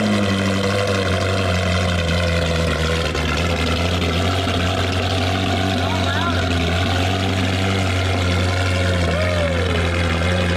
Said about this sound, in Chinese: 下面他要再次发动车子，看看这次车子能爆发出怎样的怒吼